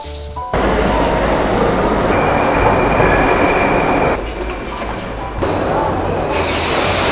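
A metro train rolls in loudly, a steady rumble and rush with high wheel squeal, the roar shifting as the carriages slow near the platform.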